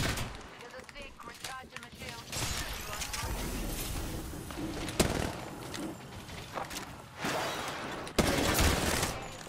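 Rapid video game gunfire bursts, dense and loud, with several sharp crashing shots standing out, all under excited live voices talking over the action.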